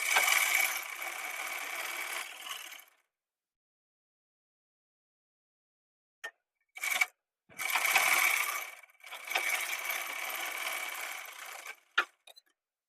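A sewing machine stitching a shirt shoulder seam runs in steady whirring bursts: a long run, a gap of silence, a few short stops and starts, then another long run, close and clear.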